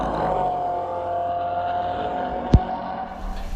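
A C8 Corvette runs down the start-finish straight at Road Atlanta during a track night. It gives a steady, sustained engine drone with a held tone and a brief sharp knock partway through, all at an even, fairly loud level.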